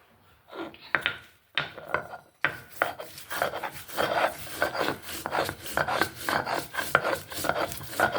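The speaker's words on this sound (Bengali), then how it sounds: "সেই জন্য আমি পাটায় বেটে নিব" Tulsi leaves are ground on a stone grinding slab, a rough rhythmic scraping and rasping of stone on stone. Near and fairly loud, it starts with a few separate strokes, then settles into continuous back-and-forth grinding.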